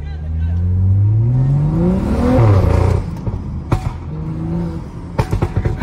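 A BMW F30 335i engine revs up loudly in a rising sweep, then drops back. Sharp pops and bangs crackle from the exhaust afterward, recorded close from inside the car at night.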